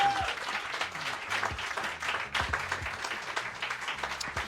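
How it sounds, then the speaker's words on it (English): Comedy club audience applauding for comedian Mike Lawrence at a roast show, dense sustained clapping from a crowd filling the whole stretch at an even level. "Clap it up for Mike Lawrence"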